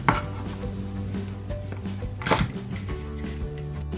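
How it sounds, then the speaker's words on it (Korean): Knife trimming the edges of potato, sweet potato and carrot on a cutting board: close, quiet chopping and scraping strokes at an irregular pace, with one louder cut midway. "감자, 고구마, 당근은 이게 모서리 부분은 조금 다듬어 주세요."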